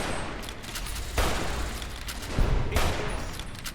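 Hunting rifle shots in Fallout New Vegas, two distinct cracks near 1.2 s and 2.4 s rising from a constant ambient game noise bed, fairly loud and close, no speech.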